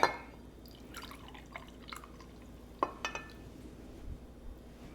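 An orange being hand-juiced into a glass measuring cup: faint, sparse drips and small clicks of liquid and glass, with a few brief soft taps in a quiet kitchen.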